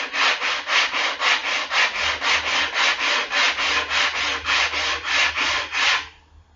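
Wooden boards sanded by hand, a steady back-and-forth rasping of about twenty even strokes that stops near the end, close and loud with no voices.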